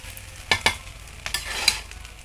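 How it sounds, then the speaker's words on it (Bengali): Water splashed into a hot pan of fried rice, giving a couple of quick hissing bursts followed by softer sizzling and stirring, heard close up with no talking. "এই যে তাওড়া জল দিয়ে দিচ্ছি"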